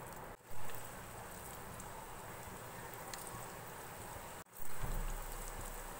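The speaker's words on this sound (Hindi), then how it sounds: "ऑयल गर्म हो गया है, हम इसके अंदर पकौड़े फ्राई करेंगे।" Vegetable pakoras sizzle in hot oil in a pan, a steady, dense crackling hiss that runs continuously and fairly close, with a brief drop in the middle and a louder bubbling surge near the end, no talking.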